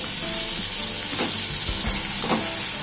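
Chopped tomato hits a pan of spiced tangra fish curry with nigella seeds and mustard paste, producing a loud, even hiss of frying close by, with a couple of soft stirring scrapes and no speech.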